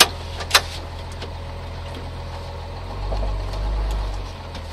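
A 1967 Mercedes 280 SL Pagode engine runs at a low, steady idle heard from inside the car, faint and even, with a couple of sharp clicks near the start and a slight swell toward the end.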